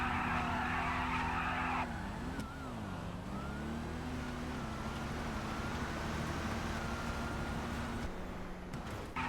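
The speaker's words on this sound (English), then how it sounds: "takes off like a rocket with that burnout launch" A car in the GTA video game does a burnout launch in a drag race on a road, its engine roaring steadily with a sustained tire squeal and a dipping pitch as it pulls away.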